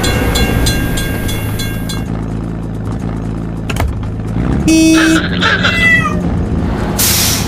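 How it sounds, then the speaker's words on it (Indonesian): A train rumbles past a closed level crossing in a children's video game, with clanking and a rising mechanical whine, mixed with bright electronic chimes and tones from the game soundtrack. "Kita harus menunggu hingga kereta lewat."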